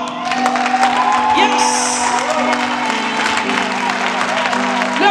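A congregation at a night prayer vigil cheers and applauds, with sustained clapping, whoops and shouts filling the room over a steady sung or musical tone, while a voice calls out briefly.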